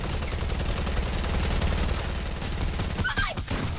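Sustained, rapid minigun fire in a video game, a dense continuous rattle filling the first three seconds, then breaking into a few separate shots and bursts near the end, with no talking.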